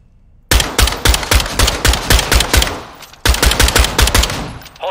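Automatic gunfire in Modern Warfare 2, loud rapid bursts of shots in two volleys separated by a short gap, close and punchy with no talking.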